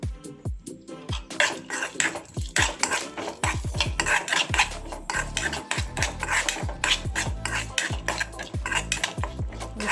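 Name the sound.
stir-frying onion, pepper, cumin, curry leaves and garlic in pan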